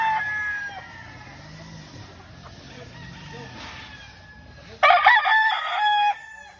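Gamefowl stags crowing on a game farm, with several crows at medium distance under faint background noise, then a loud close crow near the end.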